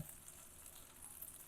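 Eggs fry in a pan with a quiet, steady hiss and crackle that carries on evenly throughout, with no voices.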